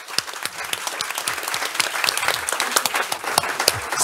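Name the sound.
audience applause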